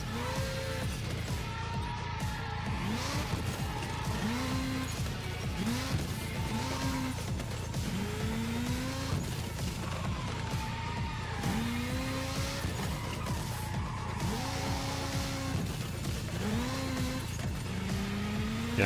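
A racing car in the PS5 arcade game Screamer roars continuously with rising and falling engine pitch as it upshifts, and repeated tire squeals and skids sound over a steady, loud engine drone.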